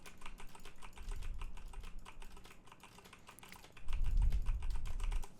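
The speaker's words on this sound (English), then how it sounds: "pressing on those WASD keys, the R key, the space bar, and clicking that mouse" Steady clatter of computer keyboard typing with sharp key taps and a few heavier thuds, close and continuous, no voices.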